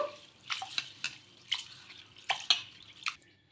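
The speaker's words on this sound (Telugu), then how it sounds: "ఒక కప్పు పెసరపప్పు ఒక రెండు సార్లు అయితే కడిగేసుకొని" Moong dal being rinsed in water, heard as a quiet run of scattered drips and small splashes in short bursts over a few seconds, with no talking.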